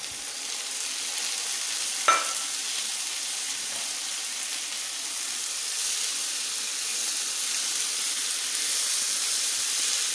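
Tomatoes frying in a light-brown onion, garlic and ginger paste for aloo gobi give off a steady, bright sizzle, with one sharp clink early on and no voices.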